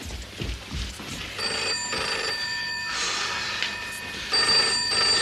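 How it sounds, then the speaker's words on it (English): Telephone bell ringing in a 1984 British soap opera household scene, repeated electronic trills in bursts with steady room noise between them, fairly close and alone without talk. "doesn't this phone ever stop ringing?"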